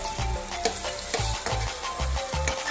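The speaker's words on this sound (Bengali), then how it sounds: "এটা হয়ে গেল বেগুন ভাজা" Brinjal slices fry in a pan with a steady crackling sizzle, broken by a repeated rhythm of dull low thumps from the pan being stirred and turned.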